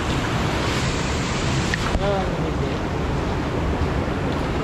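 River water flows steadily outdoors in a rural province, a continuous broadband rush mixed with wind buffeting the microphone, with no distinct events.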